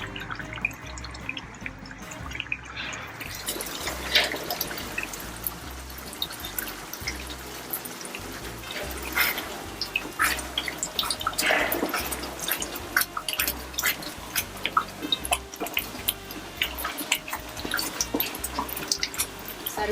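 Liquid from a whole bottle is poured into a pan while cooking spaghetti Bolognese, a steady close-up splashing and trickling pour that runs for the full stretch with no talk.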